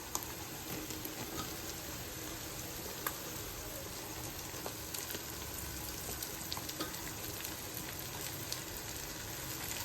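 Capsicum joins half-cooked onions frying in a pan for chilli chicken and fried rice, a faint, steady sizzle and crackle with light stirring noises, distant and low, no talking.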